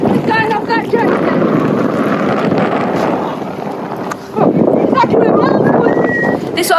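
Wind blowing across a boat at anchor off Albania, gusty buffeting noise against the microphone with waves and rigging sounds, while people talk over it; a brief lull near the middle before the wind surges back.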